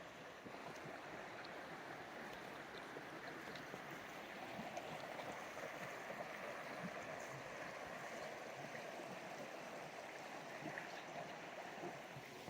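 Crow Creek flowing steadily at a ford on a hiking trail, a continuous broad rush of moving water that stays even and fairly faint throughout, with no voices.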